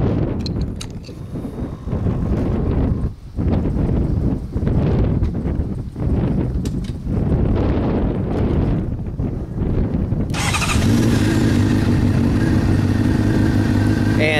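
A 600cc sport motorcycle, a 2011 GSXR 600 or 2008 CBR 600, starts late in the clip after wind-buffeted handling noise, then settles into a loud, steady running note.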